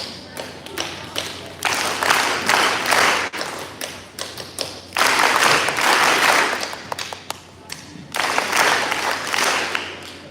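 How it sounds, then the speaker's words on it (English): A school audience at East End Community School claps back rhythmic patterns in a call-and-response game, with bursts of sharp, loud group claps in short phrases separated by brief pauses, repeated several times. "I'll clap and you clap back."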